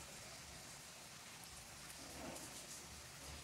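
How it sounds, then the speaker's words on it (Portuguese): Steady rain falls outdoors as a soft, continuous broadband hiss, faint and fairly distant, with no voices over it. "Tá chovendo, ó."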